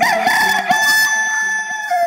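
A rooster's crow rises and holds over a background of singing and plucked music in a Bengali election nasheed, loud and near for about two seconds.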